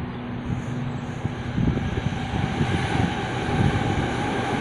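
A fast train running through Australia, a steady loud rumble and roar with a low drone, passing close and growing slightly stronger toward the end, with no voices.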